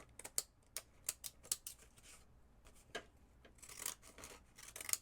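Scissors trimming the height of a sheet of paper for a mixed-media journal envelope, a few short crisp snips in quick bursts, close and fairly faint, with no talking.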